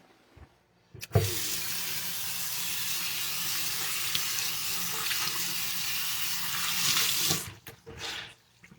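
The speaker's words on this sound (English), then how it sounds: "and then flush again. I flush again." A toilet flushes in a home bathroom, a strong steady rush of water lasting several seconds after a sharp start, then tapering off with a few trailing gurgles and clunks.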